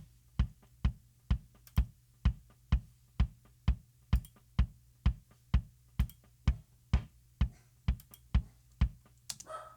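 A steady, evenly spaced drum beat with saturation split across three frequency bands, sharp, gritty hits over a low sustained hum, the punchy strikes sounding crunchy and distorted.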